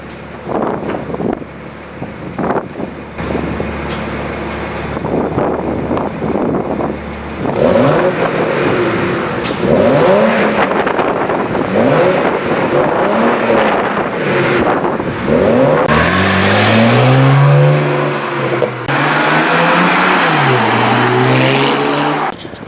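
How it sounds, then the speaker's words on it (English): A BMW 335i with a newly installed downpipe revs repeatedly, its engine note rising and falling in loud, close sweeps with rushing turbo spool and wind noise over the mic, the revs climbing harder toward the end. "you guys can definitely hear the turbo spool"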